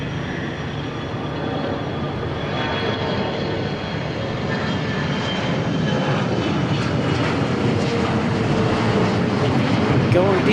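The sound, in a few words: Gulfstream business jet taking off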